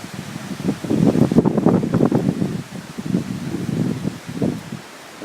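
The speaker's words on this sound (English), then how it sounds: "Here comes the torrential downpour." Torrential summer storm downpour on a 91-degree day, a broad, steady roar of heavy rain with gusty wind rushing close by, loud and continuous, easing a little near the end with no voices.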